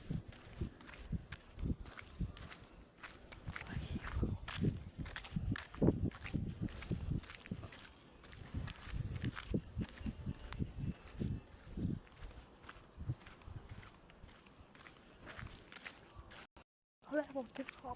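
Footsteps walking laps around a dormitory building, a long irregular series of close, soft steps under frequent speech, ending in a brief dropout.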